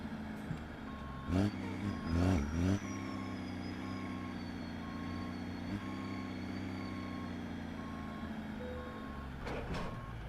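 Steady, evenly spaced reversing beeps ring over an idling truck engine as a Kenworth with open pipes couples a trailer in American Truck Simulator, with a few louder air bursts and clanks along the way.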